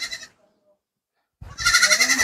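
Goats kept in a separate shed at a rural house bleat nearby: one short bleat, a silent gap, then a louder sustained, wavering bleat close up.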